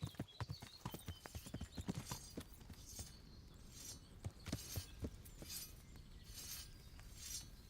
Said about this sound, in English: my horse isn't that fast when it's trotting like this